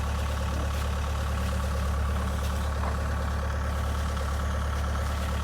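A Jeep engine idles steadily throughout, a continuous low rumble with a constant hum, heard close and alone without talk.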